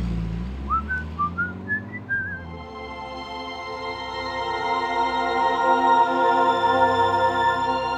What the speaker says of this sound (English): even whistled a little on the way home